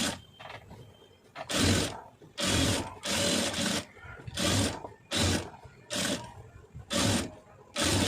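A sewing machine stitches soft patchwork saree fabric in repeated short bursts of fast, loud whirring, about eight runs separated by brief pauses, close up with some faint speech in the gaps.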